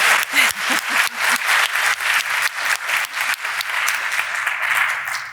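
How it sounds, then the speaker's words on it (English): A group of people claps steadily for several seconds, a close, even applause with no voices over it. "Yes, they're clapping for you."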